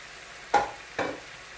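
Fresh asparagus dropped into a hot pan of mushroom stir fry, giving two short, close sizzling bursts about half a second apart that fade quickly into a quiet background.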